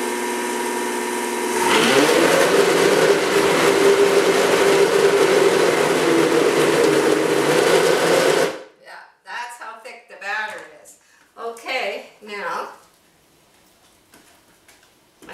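An electric stand mixer runs loudly for several seconds, churning gluten-free bread dough with a steady motor whir, then shuts off and a person starts talking.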